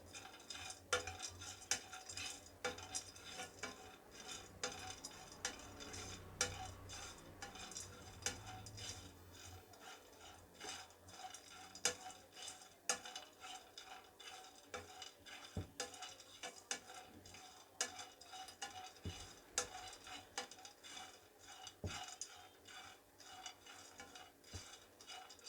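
A spoon stirs almonds dry-roasting over high gas flame in a non-stick kadhai, giving steady scraping and light rattling with small clicks throughout, fairly quiet and without talk.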